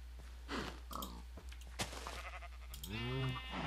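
Sheep bleat in Minecraft with the Thaumcraft mod, a couple of short game bleats and a longer wavering one near the end, over a low steady hum and a few clicks.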